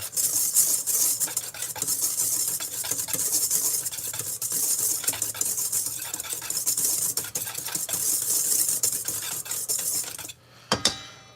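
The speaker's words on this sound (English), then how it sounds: "now I'm gonna bust out my whisk, give it a quick spin" A whisk scrapes and clinks briskly around a bowl of sugar, cinnamon, flour and baking soda, a close, continuous rhythmic stirring that stops abruptly near the end with a final clatter.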